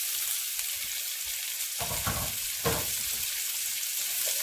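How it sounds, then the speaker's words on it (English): Onions and green pepper sautéing in a pan, a steady close sizzle with two louder bursts of frying, no talking. "So I'm going ahead and putting in my onions. That's one onion head. And sauteing that up."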